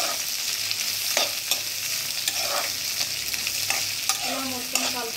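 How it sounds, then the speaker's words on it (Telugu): Onions frying in a pan until brownish, a constant close sizzle broken by repeated scraping strokes of a spatula and a few clinks against the pan. "ఆనియన్స్ని బాగా వేసుకోవాలి, కొంచెం బ్రౌనిష్లో వచ్చే వరకు"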